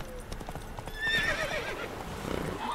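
A horse in the video game The Witcher 3 gallops with quick hoof clip-clops and lets out a clear, high neigh midway, with faint game ambience behind.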